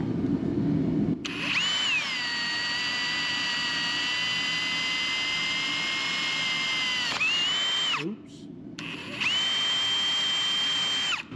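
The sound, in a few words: power drill drilling through Jeep XJ axle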